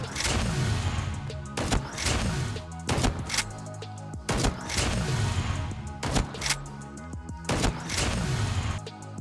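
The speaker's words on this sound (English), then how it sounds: "The second way is to shoot while sliding or jumping." Heavy shotgun blasts boom at regular intervals in a first-person shooter video game as the player slides and jumps, each loud shot followed by a mechanical pump or reload clack, about eight shots, no talk.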